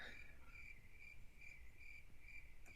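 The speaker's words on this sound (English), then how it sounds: "Crickets chirping." Crickets chirp steadily in a quiet night setting, a continuous pulsing trill repeating in regular bursts at moderate distance, with no voices present.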